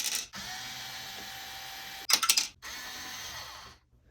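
Screws being backed out of a Tascam 688 cassette recorder: a close mechanical whirring grind runs for about two seconds, a brief clicky burst follows, then another sustained grind, with no talk.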